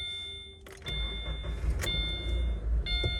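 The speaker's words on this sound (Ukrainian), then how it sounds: "Заведемо автомобіль" A 2013 Subaru Crosstrek engine cranks briefly and catches, settling into an even idle, with electronic chimes beeping before and after the start.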